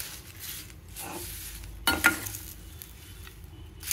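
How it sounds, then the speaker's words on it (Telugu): Curry leaves dry roast in a pan with no oil, giving a faint, soft crackle and rustle, with a brief louder clatter of stirring midway, close and quiet. "కరివేపాకు కలర్ చేంజ్ అయింది చూసారా, ఇలా చక్కగా వేగిపోవాలి."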